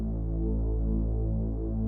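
A Reese bass synth layered with a triangle-wave sub bass gives a dense, humming low drone with slow throbbing movement, sustained at an even level throughout.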